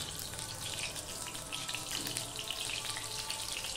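A dried red chili broken in two sizzles in hot oil in a pan while a vegetarian chichinga (snake gourd) dish is cooked, giving a steady, dense hiss that carries evenly throughout with no pauses.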